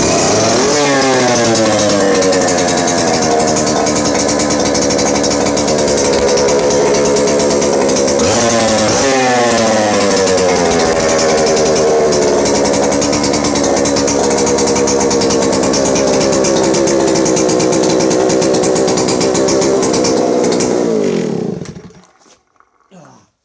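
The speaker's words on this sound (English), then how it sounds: "I'll show it running one last time so you can see how it's leaving me. Throttle lock, bit of choke." A vintage Stihl 07S chainsaw, started with throttle lock and a bit of choke, runs loud and close with a steady rasping engine note and a couple of revs, then cuts out abruptly near the end.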